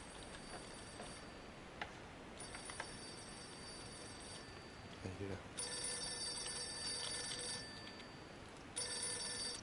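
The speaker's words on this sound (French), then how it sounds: "Eh oui, on doit toujours répondre au téléphone." A telephone rings in the Mafia 2 video game: faint repeated ringing bursts over a quiet low background, the rings returning at intervals through the stretch.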